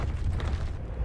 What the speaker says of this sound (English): that explosion shouldn't still be appearing